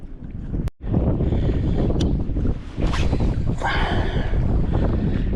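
Strong wind buffets a fishing boat on a rough day off Port Mansfield, Texas, with a loud, continuous roar and gusts hitting the microphone, broken by one short knock.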